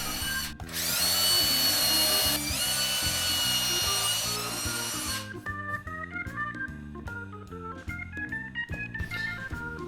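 A power tool with a circle jig cuts a speaker driver recess into wood, first as a loud, steady high whine. It then drops to a rougher, uneven grinding chatter as the cut continues, with no talking.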